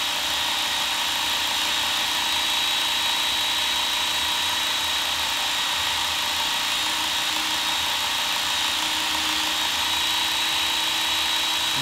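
A Ken Onion Work Sharp powered sharpener runs with a steady, loud motor whine and belt hiss as a chisel bevel is lightly honed, holding an even drone throughout with no talk.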